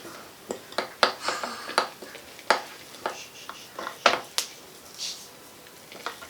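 Sourdough starter of flour and water is stirred in a container, a series of close, wet, sticky knocks and squelches in an uneven rhythm, with a faint background voice.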